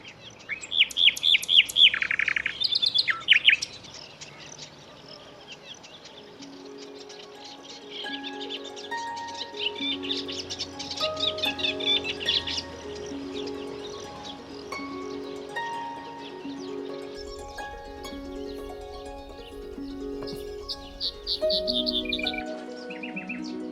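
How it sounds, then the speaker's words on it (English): A nightingale sings on Lesvos, close and clear: rapid chirps and trills, then long stretches of repeated whistled phrases, varied and continuous, with a faint low hum partway through. "This is a nightingale, by the way"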